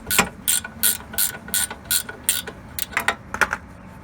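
Ratchet wrench loosening caliper bolts on a 2008 Lincoln MKX brake: a quick, steady series of crisp clicking pawl strokes, close and fairly loud, repeated roughly three times per second with no talking.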